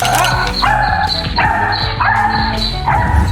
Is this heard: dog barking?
yes